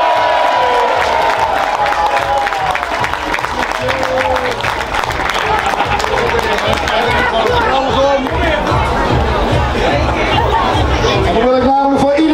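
Carnival crowd applauding and cheering for the departing captain at a Dutch carnival gathering, loud continuous clapping and hubbub with voices chattering and calling out throughout, music-like tones drifting over the din.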